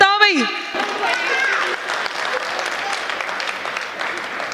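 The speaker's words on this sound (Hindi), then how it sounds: "अब तालियां बजानी है इनसे ज्यादा अभी नहीं" An audience at a live stage show with a poet and a host breaks into sustained applause right after a brief voice, steady clapping filling the hall for several seconds.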